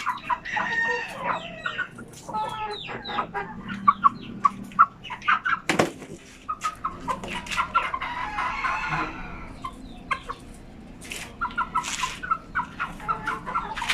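Newly bought chickens crowd a backyard pen, clucking steadily with bursts of wing flapping and repeated rooster crows, near and fairly loud throughout.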